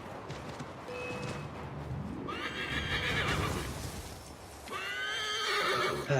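Horse whinnies and neighs in Assassin's Creed 3, The Tyranny of King Washington DLC, with a couple of clear harmonic calls over clip-clopping hooves and game ambience, fairly close and loud.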